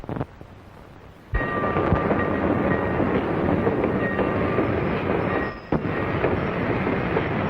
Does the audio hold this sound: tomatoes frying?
no